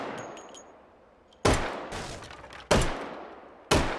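A 1911 semi-automatic pistol firing in the VR shooting game H3VR, three loud, close gunshots spaced about a second apart, each with a sharp attack and decaying ring, after a quieter mechanical stretch.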